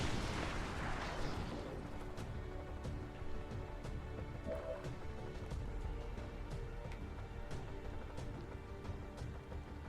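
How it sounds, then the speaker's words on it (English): Rocket launches and blasts from XCOM 2 gameplay: a dense, rumbling burst of explosive noise at the start that fades over two seconds into a steady low background with scattered faint clicks. "Rockets away."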